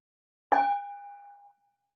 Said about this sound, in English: I'll go ahead and invite 3 sounds of the bell